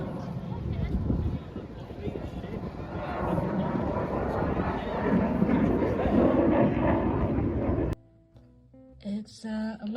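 A Swiss reconnaissance aircraft flies past at an outdoor air show with rides and food stalls. Its loud, steady engine roar lasts about eight seconds, then cuts off abruptly and gives way to quieter, scattered sounds.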